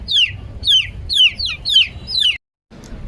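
Aseel chicks peep loudly and insistently, five sharp descending calls in quick succession, close to the microphone, followed by a brief silence and faint background noise.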